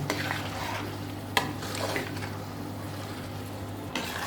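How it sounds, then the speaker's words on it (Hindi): Spiced spinach and potato curry sizzles as it is stir-fried in a karahi. A utensil stirs and scrapes in the pan, with a couple of sharp knocks over a soft frying hiss and a steady low hum. "अब मैंने इसे 5 से 10 मिनट मज़ीद भूनना है।"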